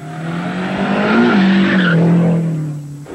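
Racing cars roar past at close range on a track lined with spectators standing on the course, one engine note climbing and then sliding down as tires skid, loud and near.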